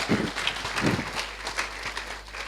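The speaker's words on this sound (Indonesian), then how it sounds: "Ya, beri tepuk tangan Bapak Ibu, haleluya." Applause from a church congregation at a closing worship service, a dense patter of clapping that swells and fades over a couple of seconds, moderately close, with no voice over it.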